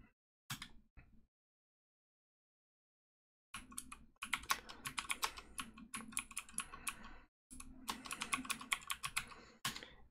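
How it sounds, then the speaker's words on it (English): Someone types a terminal command on a computer keyboard, producing close rapid clacky keystrokes in bursts separated by pauses, including one long silent gap. "If I can type correctly, it'll work."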